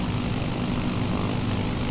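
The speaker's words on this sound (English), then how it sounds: "So let's just go full throttle here and see if the tail lifts up." Savage Cub propeller plane engine at full throttle in Microsoft Flight Simulator, a loud steady droning roar with propeller buzz, close and continuous, without talk.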